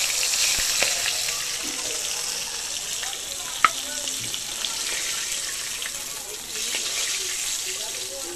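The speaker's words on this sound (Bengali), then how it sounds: "মাছের মাথা আমাদের ভাজা" Fish heads frying in a pan for a Bengali fish-head dish, a steady broadband sizzle with a few sharp crackles and pops, close and moderately loud with no voices.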